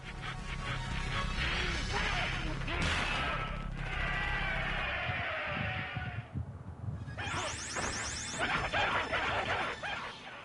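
Objects smashed in the Mortal Kombat Test Your Strength bonus game, with loud crashing and whacking impacts over busy game music and effects, plus a sharp shattering burst near the end.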